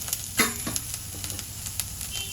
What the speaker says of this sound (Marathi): फरसबी, टोमॅटो घालूया आणि ओल्या हळदीचे तुकडे थोडे घालूया आणि छान परतून घेऊया